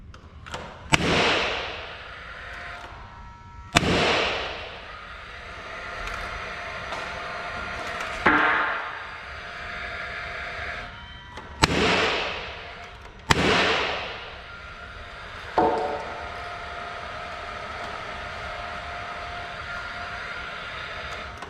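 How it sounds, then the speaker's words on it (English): A nail gun fires nails into wall studs while walls are framed inside a metal garage: five or six sharp, loud cracks spaced a few seconds apart, each leaving a short ringing echo in the enclosed space. "It's literally a gun shooting nails."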